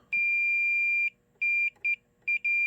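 A multimeter set to continuity, probing a relay on a spa control board, sounds a clear steady tone, first one long beep, then a series of short clipped beeps as contact is made and broken.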